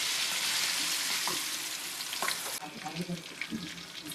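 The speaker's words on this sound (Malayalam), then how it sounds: "നമുക്ക് ചിക്കൻ ഇട്ട് കൊടുക്കാം" Chicken 65 pieces drop into hot boiling oil, a loud steady sizzle and hiss that settles as the chicken goes in, followed by lighter crackling and the scrape of a utensil moving the pieces.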